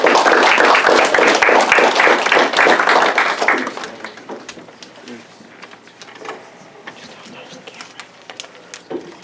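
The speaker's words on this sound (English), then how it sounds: "Please give her a warm hand of applause." An audience claps loudly for about four seconds, then the applause fades to a few scattered claps and room noise.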